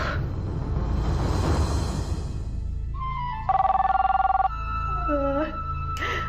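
An electronic telephone ring sounds in a steady pulsing burst after an earlier whoosh, followed by shorter tonal beeps, heard loud and close in a scene from a cartoon series.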